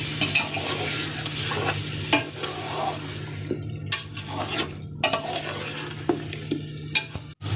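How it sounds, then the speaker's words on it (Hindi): Chicken pulao base of chicken and yogurt being stirred and fried in a large pot, a continuous close sizzle with repeated scraping spoon strokes and clinks against the metal, no talking. "मज़ीद इसको थोड़ा सा और भून लेंगे।"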